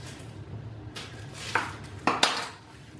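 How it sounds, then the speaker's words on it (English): A knife cuts onion for cooking in a home kitchen, with a low background hum and a few sharp clinks and taps of the blade against the board or a dish. "let me cut up some onion because I want to see how much"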